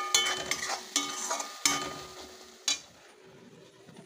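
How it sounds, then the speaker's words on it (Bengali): Spice paste frying in a wok for a country chicken curry, a soft continuous sizzle broken by a few sharp scraping stirs of the spatula, close and moderately loud, with no talking. "প্রায় আমার কষানো প্রায় হয়ে যাচ্ছে মশলাটা।"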